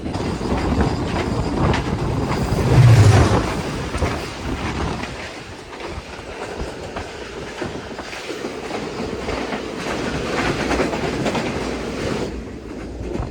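A Pakistani passenger train, the Awam Express, runs along the line as the Hazara Express passes, with a steady rumble and wheel clatter, a louder swell near the start and then a sustained roll with no voices.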